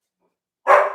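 A single loud dog bark bursts in after silence, close to the microphone, from an excitable dog jumping up indoors.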